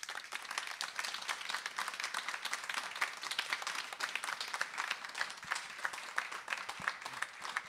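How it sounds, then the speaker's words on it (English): Audience at a panel discussion applauds, a sustained, even wash of many people clapping, somewhat distant and quiet as if picked up from across the room, with no voices on top. "There should be some kind of applause."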